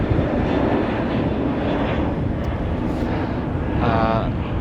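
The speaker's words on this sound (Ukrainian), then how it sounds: "Зараз літак пролетить." An airplane passes overhead on a remote patch of land in the middle of the Atlantic Ocean, its steady broadband roar mixed with wind and filling the whole stretch without letting up.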